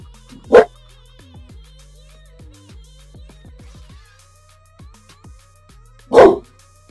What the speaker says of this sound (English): cue the doggo